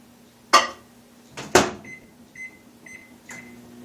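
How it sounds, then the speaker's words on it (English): A microwave oven softening butter: a door opens and shuts with sharp clunks, keypad beeps sound in a short series, and the low hum of the running oven continues close by. "Put it in the microwave for about 10 seconds."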